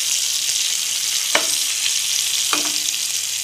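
Meen varuval, fish frying in oil in a pan, gives a steady loud sizzle throughout, with two brief sharp spatter pops standing out over the continuous hiss.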